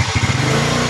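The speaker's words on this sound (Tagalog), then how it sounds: "Yung issue ng motor ni boss, may lagotok sa primera." Motorcycle engine in first gear with a knocking fault, running close and loud with a steady low rumble and faint irregular clatter over less than a second.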